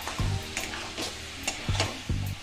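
Spices with coriander powder stir-fried for ghugni, a soft low sizzle under a few sharp scrapes and knocks of a spatula against the pan, quiet and close, no talk.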